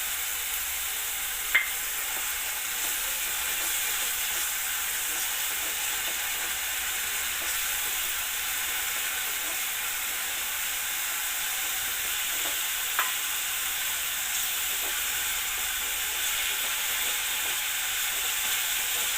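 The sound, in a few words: onion and ginger garlic paste sautéing in pan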